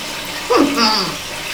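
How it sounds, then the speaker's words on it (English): Water runs from a tap in a steady splashing stream, close and clear, while a person speaks briefly over it. "then the water is coming out."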